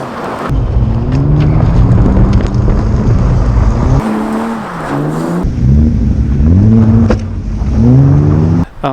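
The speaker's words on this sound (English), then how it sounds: "I've done a lot of gravel drifting in this thing" A BMW E36 drifts on gravel, its engine loudly revving through repeated rising pulls and drops, with rough, gritty gravel spray hissing beneath the engine howl throughout.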